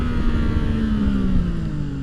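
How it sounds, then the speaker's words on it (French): Zontes 703 F motorcycle engine pulling steadily on a test track, a continuous mid-pitched drone with a slowly falling tone, loud and close with wind rush, no voices. "On a un moteur qui est assez expressif."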